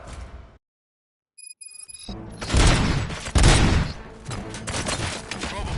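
Gunfire breaks out in the video game RoboCop: Rogue City as a dense fusillade of loud, overlapping shots and booms. It follows a brief silence and a few electronic tones.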